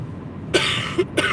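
A person coughs twice, close and loud: two short, sharp bursts in quick succession with a faint breath between them, inside a car.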